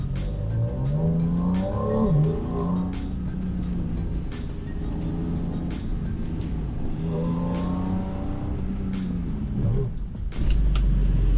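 Porsche RS Spyder race engine on a slalom course revs up and down in repeated rising and falling sweeps, loud and close with brief tire squeal, then a short rumble at the end.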